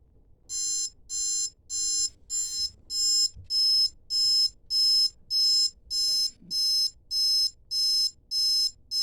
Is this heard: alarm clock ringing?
yes